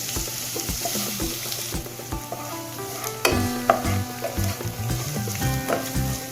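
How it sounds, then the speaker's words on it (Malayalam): Chopped onions sauté and sizzle in a hot pan as the base for a Kannur-style fish curry, a steady frying hiss broken by repeated scraping stirs from a spoon, close up with no voices. "സവാള നമുക്ക് നന്നായിട്ടൊന്ന് വഴറ്റിയെടുക്കാം."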